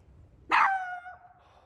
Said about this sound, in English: He was barking all the time because there was a squirrel on the tree.